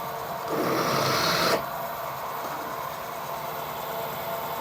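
Drill boring through tractor linkage steel during fabrication, a loud steady grinding whir for about a second that then cuts to a lower, quieter hum, close up with no talk.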